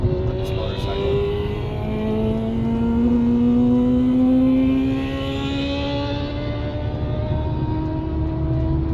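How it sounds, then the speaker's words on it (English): Motorcycle engine riding through traffic, a steady droning hum with rising and falling pitch that stays loud and close throughout, with no voices heard. "What is he doing on this motorcycle?"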